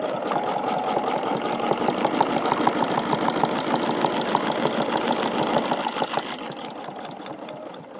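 A sewing machine stitches a quilted feather pattern along a template, its needle running in a fast, steady mechanical rhythm that stays close and loud before easing off slightly toward the end.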